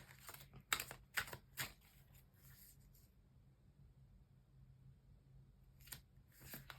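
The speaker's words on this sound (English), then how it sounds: "let's stop shuffling them ones" Crisp papery riffling and slapping of tarot cards being shuffled in quick bursts, then a quiet pause before a few more snaps near the end.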